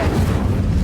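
Incendio fire spell cast in Hogwarts Legacy, a short, dense whooshing burst of flame with a low booming body, loud and close, lasting under a second with no talk over it.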